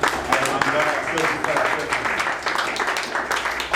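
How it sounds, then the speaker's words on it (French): A church congregation at a Sunday service applauding their pastor: steady, dense clapping from many people all the way through, mixed with cheering voices. "Acclamation pour le pasteur"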